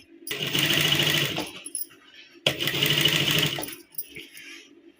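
Two steady bursts of a sewing machine stitching salwar fabric, each about a second and a half of close, loud whirring and rattling, separated by a short pause with light handling clicks.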